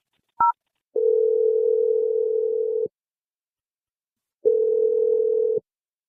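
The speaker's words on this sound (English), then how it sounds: "I'm going to dial it right now." A telephone call is placed: one brief keypad tone, then two long, steady electronic ringing tones separated by a pause of silence, clear and isolated.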